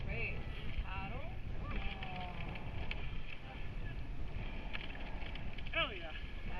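A masters mixed rowing eight paddles on the water during a head race, with rhythmic oar strokes and splashes under steady wind noise, while voices call out.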